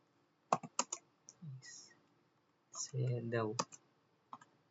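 Crisp clicks from a computer keyboard sound as a Linux command is typed in short bursts. Someone talks between and over the keystrokes, close to the microphone.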